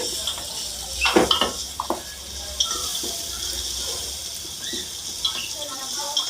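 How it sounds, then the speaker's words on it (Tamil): Ginger garlic paste is sautéed in a pan with fried onions for vegetable biryani, making a soft, close sizzle under repeated scraping and clinking of a stirring spoon. "இஞ்சி பூண்டு பேஸ்ட்டு நல்லா பச்சை வாசனை போகிற அளவு வதக்கிக்கலாங்க"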